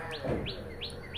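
Sparrows chirping outside a house, three or four quick rising tweets repeating at a steady pace over a low, constant background hum, with no voices.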